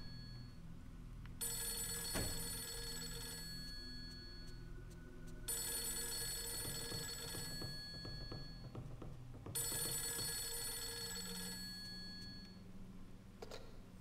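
A telephone rings in the horror game Fatal Frame 3, three long electronic bursts of trilling tones separated by pauses, heard over a low eerie ambient drone.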